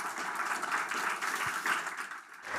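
Sustained applause from a church congregation, a dense wash of clapping that holds steady throughout.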